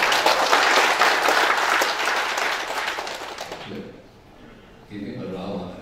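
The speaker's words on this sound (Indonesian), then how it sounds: "Tepuk tanganlah," Loud audience applause at a university lecture event, with dense, sustained clapping for about three and a half seconds before it thins out, followed by quieter scattered clapping and a voice speaking.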